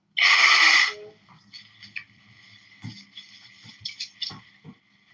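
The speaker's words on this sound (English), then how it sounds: "You just blow your nose." A loud, wet nose blow at the start, followed by quieter sniffs and snorts mixed with faint background sounds.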